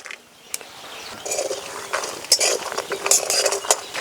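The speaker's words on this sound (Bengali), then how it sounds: "বাদাম একটু নাড়াচাড়া করে ভেজে নেব।" Peanuts stirred and fried in oil in a wok, with a quiet start, then metallic clinks and scrapes of a utensil against the pan over a light sizzle, growing busier and louder.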